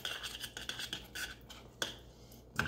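A spoon stirring chili in a pot, soft repeated scraping and rubbing strokes against the pot, close but quiet, with no talking.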